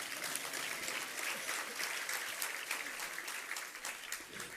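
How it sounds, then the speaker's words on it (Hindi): An audience at a Jain monk's discourse at Tilwara Ghat, Jabalpur claps in a steady, dense patter of many hands, fairly loud and sustained throughout without speech. "धीरे धीरे ताली बजाओ,"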